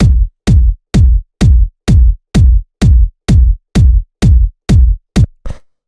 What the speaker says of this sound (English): the first sound we have here is the kick, which is made of 2 layers, and it sounds like this